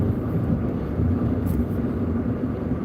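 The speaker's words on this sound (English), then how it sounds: "I have an exhaust leak on my car" A car with an exhaust leak runs loud, a continuous deep rumbling drone that holds steady and close for a few seconds with no voices.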